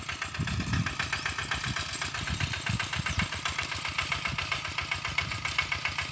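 A small single-cylinder engine chugs steadily nearby, a rhythmic putt-putt like a walk-behind tractor running at idle.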